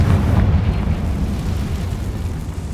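A deep, booming fire-spell explosion (Confringo) in the video game Hogwarts Legacy, loud and rumbling at first, then fading into a sustained low roar.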